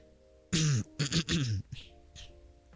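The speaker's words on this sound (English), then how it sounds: "I'm really clearing my throat here." A person clears their throat with several harsh, rasping bursts in quick succession, close and loud, followed by a few softer grunting sounds.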